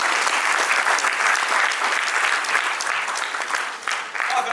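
A conference audience at a trading summit applauds loudly and steadily, with dense, continuous clapping that fills the whole clip without any speech.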